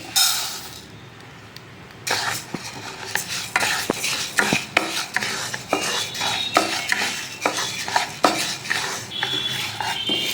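Metal utensil scraping and clinking against a pan while dry-roasting moong dal, in a steady stirring rhythm, close and fairly loud, with no voices.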